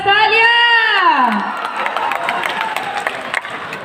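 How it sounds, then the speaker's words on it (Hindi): A loud drawn-out whoop slides downward, then an indoor audience at a live coaching event breaks into steady clapping and cheering that continues to the end. "प्रसाद सर और गौतम सर के लिए क्या आनी चाहिए, थोड़ी जबरदस्त तालियां।"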